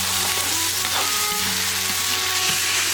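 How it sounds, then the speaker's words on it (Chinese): Tomatoes stir-fry in hot oil in a wok with ginger, scallion, star anise and bay leaf, giving a loud, continuous sizzle with occasional soft scrapes of stirring, close by. "炒香炒番茄"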